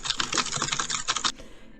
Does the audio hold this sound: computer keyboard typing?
yes